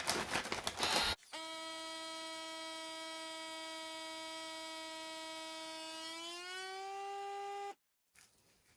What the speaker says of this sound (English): And now we will vacuum seal.